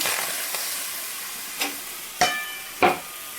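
Boiled pieces of green mango hit a hot wok and sizzle with a steady hiss, with three sharp stirring scrapes near the end and no talking.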